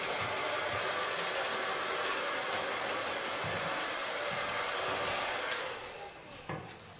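A hair dryer blows steadily on hair at a salon, a loud continuous whooshing hiss that runs unbroken for several seconds, then drops off and sputters near the end.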